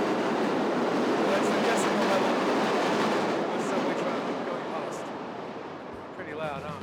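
A New York City subway train roars steadily along the tracks, loud and close, with a dense rushing rumble that eases slightly toward the end as faint squeals appear.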